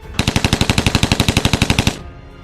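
Rapid automatic gunfire from a video game, a burst of about twenty evenly spaced loud shots fired in quick succession for under two seconds, then stopping abruptly with a short fading tail; no talking.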